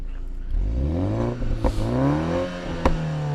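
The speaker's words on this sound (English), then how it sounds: "Nice little pop-pops again. It's just the 4-cylinder, so it's not going to sound too crazy." A 2020 BMW Z4 sDrive's four-cylinder engine revs up in sport mode, its pitch climbing and falling in a loud, close roar, with a couple of sharp exhaust pops.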